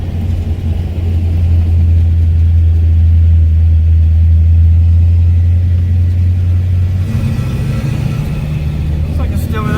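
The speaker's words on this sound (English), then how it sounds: "I can't tell if it's idling high" A 1957 Chevrolet Bel Air engine idles in a steady, loud low rumble that holds evenly, shifting slightly in tone near the end.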